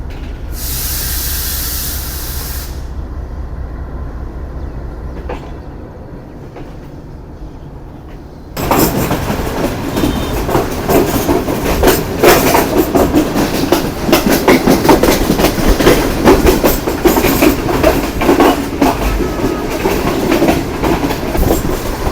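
The Green Line express train from Rawalpindi runs at speed, starting with a high hiss and hum before a loud, steady roar of wheels and rattling carriages takes over, with continuous clickety-clack throughout.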